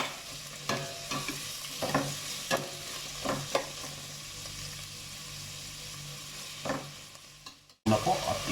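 Ginger and whole peppercorns sizzle in a pot for chicken tinola, a steady close frying hiss broken by the scrape of a stirring spoon now and then, with a loud clatter near the end.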